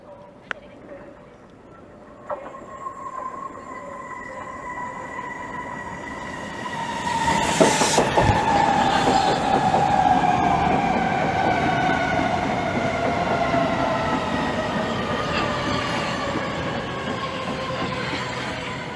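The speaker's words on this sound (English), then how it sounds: "And now arriving in is 1 Lima 28, the 1421 Southeastern service from St Pancras International to St Pancras International via Dover, Deal and Ramsgate." A Southeastern Class 395 train pulls into Gillingham station with a building rumble, squealing wheels and long, gliding electric whines that slowly fall in pitch and carry on loudly to the end of the clip.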